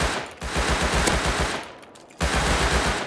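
Automatic gunfire in the survival video game Rust: two rapid bursts of close, loud shots separated by a short pause, sharp repeated cracks in fast rhythm.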